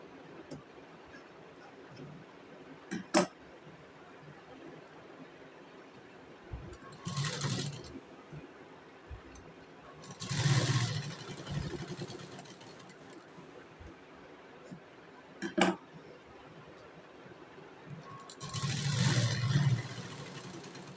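A domestic sewing machine stitches a fabric strip onto a short blouse sleeve with canvas underneath, heard as a few separate whirring bursts with quiet gaps between them and sharp clicks in between.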